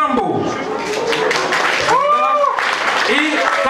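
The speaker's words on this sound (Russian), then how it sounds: "Аплодисменты еще." Audience applause at an African culture festival in Moscow, a broad wash of clapping running throughout, with music and voices calling out over it.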